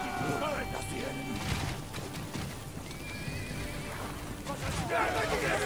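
Warhorses neigh and whinny amid a battle during the Siege of Kiev in the video game Ancestors Legacy, with hooves clattering and a dense din of combat around them.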